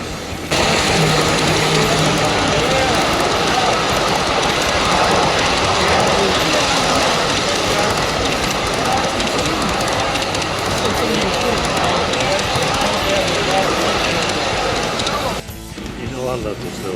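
Model trolley running on a layout at a train show, a steady rolling rumble with clickety rail noise and hall crowd murmur throughout, loud and continuous before dropping briefly near the end.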